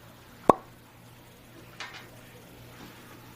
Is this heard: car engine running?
no